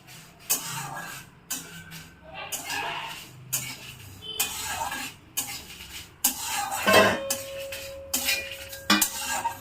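A utensil scrapes and clinks against a dry metal kadai while roasting spices for mango pickle oil, in short bursts, with a faint sizzle between strokes and a brief electronic tone near the end.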